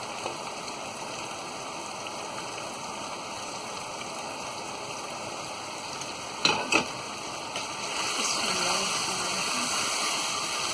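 Chicken with salt, coriander, turmeric and chilli is stirred in a pan, a steady sizzling hiss with a pair of sharp scraping knocks midway, and the frying growing slightly louder toward the end.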